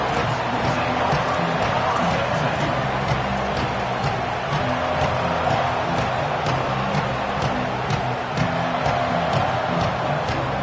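A loud, steady roar of a large stadium crowd at a Florida State vs Alabama college football game, a dense wash of voices holding level for the whole stretch, with a commentator talking over it.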